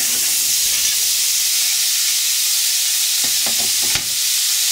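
Meat for a black-eyed peas dish sizzles steadily in a hot pot, a loud broadband frying hiss throughout, broken near the end by a few sharp clinks and stirring scrapes.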